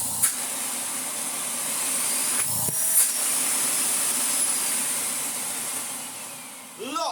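A Miele S6000 vacuum cleaner, repaired after a fall down some stairs, runs with a steady broadband whoosh and hiss throughout, close and fairly loud, with a couple of brief knocks and a rising whine near the end.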